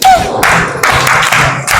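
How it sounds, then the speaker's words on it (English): Children in a basic school classroom clap their hands in a few short, loud bursts of applause, with brief pauses between rounds. "Clap hands for yourselves."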